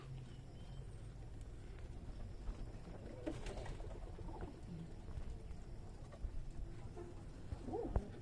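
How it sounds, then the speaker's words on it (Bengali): Pigeons gather to feed at a Giribaz pigeon loft on a farm in Shibganj, Chapainawabganj, giving soft scattered cooing and wing flutters over a low steady background rumble, with a few brief louder rustles near the end. "এই যে খাবার খাইতে আসছে কিছু কবুতর"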